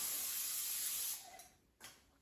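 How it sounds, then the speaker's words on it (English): Non-stick cooking spray hisses onto an air fryer pan in one steady burst of about a second, followed by a couple of short, quieter puffs, close and alone. "So I'm going to spray it with a non-stick cooking spray"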